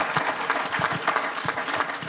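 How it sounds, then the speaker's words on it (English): Conference audience at a plenary session applauding steadily, a dense, continuous patter of many hands close by, with no voices over it. "let's have just one more round of applause for all of our suitors"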